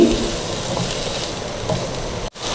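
Cubed onions sautéing in two to three tablespoons of oil or ghee in a pan over high flame: a steady, close, soft sizzle and crackle with a brief cutout near the end.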